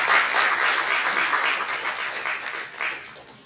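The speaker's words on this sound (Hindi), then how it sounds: "कृपया जोरदार तालियां नीति जी की बजाएं" Dense, sustained applause from an audience at a ballet performance event, a continuous clapping wash that dips briefly, swells again, and fades out at the close.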